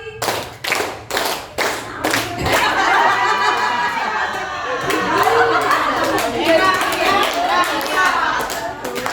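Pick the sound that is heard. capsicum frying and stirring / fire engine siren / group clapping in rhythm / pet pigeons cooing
group clapping in rhythm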